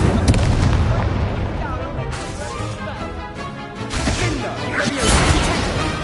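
A fire spell cast in Hogwarts Legacy produces a loud whooshing, crackling blast with booming impacts that fill several seconds of dense combat sound, with a voice shouting a spell name.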